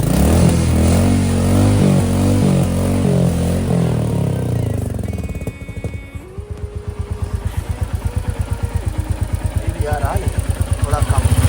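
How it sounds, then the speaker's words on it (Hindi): A Royal Enfield Meteor 350 motorcycle with an engine noise problem after 3600 km, first under someone talking, then idling alone with a steady close thumping rhythm and a brief rev near the end. "और अब आप मेरी गाड़ी के इंजन का साउंड सुन सकते हैं,"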